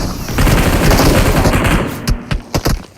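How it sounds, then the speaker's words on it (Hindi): Gunfire in the video game PUBG on the Erangal map, a loud sustained burst of rapid automatic shots followed by several separate sharp single shots as it tails off. "चलते हैं फायरिंग करने।"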